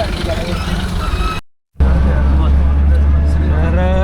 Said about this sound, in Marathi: रिक्षामध्ये बसून आता निघालोय आम्ही